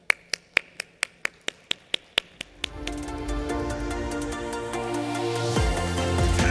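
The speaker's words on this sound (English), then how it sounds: "So please do give Isabel and her panel a warm welcome" Audience at a conference main stage claps to welcome a panel onto the stage: a few sharp, evenly spaced claps at first, then swelling into dense, sustained applause from the crowd.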